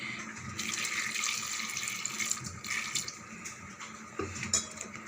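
Water runs steadily from a tap into a sink while cooking sambar, a continuous splashing hiss with a few faint clinks near the end.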